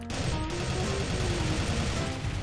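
Rapid gunfire on a Minecraft gun server, dense continuous rattling shots that are loud and sustained over a brief moment with no speech.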